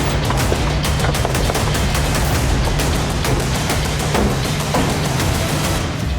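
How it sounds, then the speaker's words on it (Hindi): Rapid bursts of gunfire crackle continuously in a building, with dense overlapping shots and occasional louder cracks over a constant rumbling background. "वो गोली चलने की आवाज थी"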